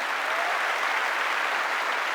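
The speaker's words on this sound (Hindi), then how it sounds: "प्लीज प्लीज जोरदार इनके लिए भी एक बार ताली हो जाए।" A large audience at the Delhi Success Day event in April 2025 applauds loudly and steadily, an unbroken wash of many hands clapping with no rise or fall.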